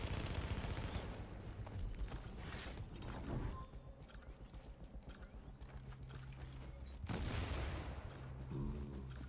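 Gunfire in The Division 2 online shooter, rapid bursts and clattering shots running steadily through a busy, dense mix, with louder swells near the start and end.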